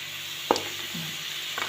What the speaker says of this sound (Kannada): ಈರುಳ್ಳಿಯನ್ನು ಕೆಂಪು ಬಣ್ಣ ಬರೋ ತನಕ ಫ್ರೈ ಮಾಡ್ಕೋಬೇಕು ನೀಟಾಗಿ.